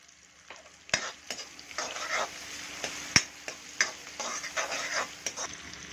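Chopped onions sautéing in hot oil in a home kitchen for egg rice, a steady close sizzle broken by sharp scrapes and taps of a spoon stirring the pan, with no one speaking.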